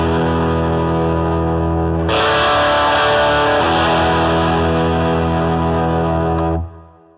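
An electric guitar plays through a Bad Cat Mod Shop Cub 15 amp, ringing cleanly before the footswitched gain boost kicks in for a louder, distorted sustained chord that holds several seconds and then cuts off abruptly.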